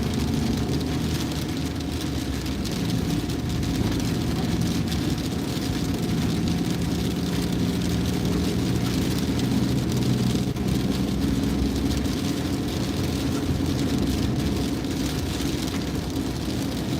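A car being driven toward Kanazawa, a steady rumble of engine and road noise heard from inside the cabin, continuous and fairly loud throughout with no talking.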